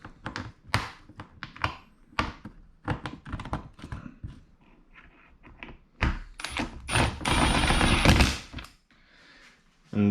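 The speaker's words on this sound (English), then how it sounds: "Install the bolts back in." Hood bolts go back in on a vehicle hood, heard as a run of close taps, clicks and metallic thunks from tools and hardware, with a busier clattering stretch partway through.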